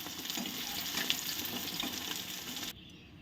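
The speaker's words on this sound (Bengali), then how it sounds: "এবার মাছগুলোকে আমি উল্টে পাল্টে ভেজে নেব ভালো করে।" Rohu fish pieces frying in hot oil, with a dense, steady crackling sizzle that continues for nearly three seconds before cutting off abruptly into near silence.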